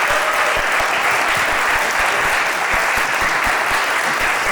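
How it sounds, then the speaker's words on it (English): Loud, sustained applause for conference panelists at a Ciceronian Society gathering in Belmont Abbey, thick continuous clapping from a close audience with no break or fade. "Could we please give a round of applause to our panelists?"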